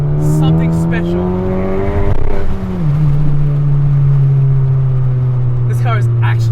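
A 2021 Honda Civic Type R FK8 being driven, its engine a steady, loud droning hum that dips in pitch partway through before settling into an even tone, heard from inside the car.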